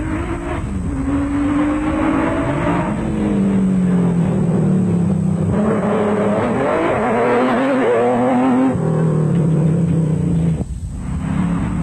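An off-road race vehicle fitted with an Audi V8 engine roars loudly and close during a 2003 Toyota Dealer Off Road Race in South Africa, its pitch rising and falling through gear changes and acceleration for several seconds, with no talking.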